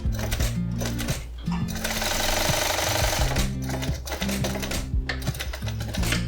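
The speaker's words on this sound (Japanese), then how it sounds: "では縫っていきます" A sewing machine stitches the gussets of a handmade round-zipper leather long wallet, running at a steady mechanical chatter with rhythmic low thumps for several seconds, close and loud.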